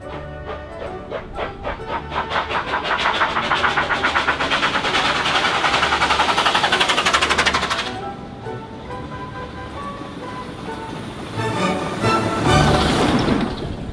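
A 1908 Stanley Model K steam car running, its engine giving a rapid rhythmic chuffing that builds and holds, then drops off before a brief louder burst near the end, with no talk.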